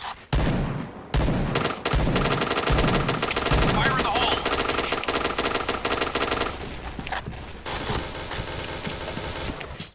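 Rapid automatic gunfire from the shooter game Point Blank, loud, close bursts with sharp shots in the first seconds, then sustained dense firing that thins toward the end.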